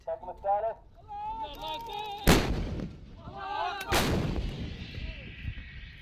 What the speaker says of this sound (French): Elles restent donc retranchées, à quelques 5 kilomètres de la frontière, d'où elles tirent sur des positions yéménites